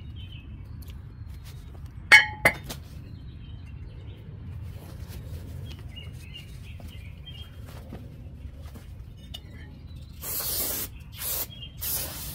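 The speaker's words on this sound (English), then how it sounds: "Clean the rotor surfaces with a brake cleaner." Brake cleaner sprayed onto a brake rotor of a Toyota Sienna, three short hissing bursts near the end after a quiet stretch with faint background noise.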